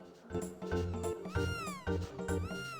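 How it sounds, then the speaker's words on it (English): A cat meows repeatedly in the Chrono Trigger video game, several close, loud, rising-and-falling calls in quick succession. "Look, Chrono, your cat's running away because you haven't been feeding it."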